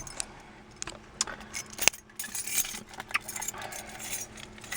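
Car keys for a 2003 Toyota Corolla LE jingle and clink in light, irregular metallic bursts close by, with a brighter rattle partway through, against quiet indoor background noise.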